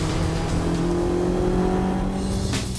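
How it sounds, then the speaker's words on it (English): A motorcycle tearing past on a street at about 100 mph, a loud high engine whine rising as it nears, then fading and shifting pitch as it goes by. "Here goes a motorcycle that's going to be 100 miles an hour"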